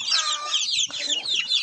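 Turkey poults and a hen feed together at close range, with continuous high, thin peeping and chirping from the young and a few low clucks from the hen.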